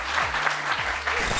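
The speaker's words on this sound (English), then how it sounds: "One man clap." On a live TV talk show, a lone person claps a few times, sparse and close, over a low steady hum.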